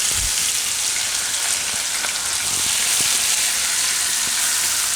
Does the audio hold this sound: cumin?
yes